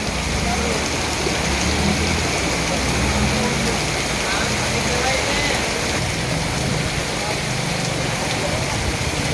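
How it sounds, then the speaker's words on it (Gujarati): Heavy rain pours steadily in a dense, unbroken roar over the town of Kodinar, Gir Somnath, with water rushing and splashing on surfaces throughout. "જો વરસાદ પડી રહ્યો છે કોડીનાર શહેરમાં।"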